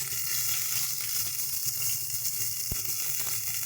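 Garlic and ginger paste sizzling in hot oil for Mughlai paratha, a dense, bright, continuous frying hiss close up, with one brief knock partway through and no voices.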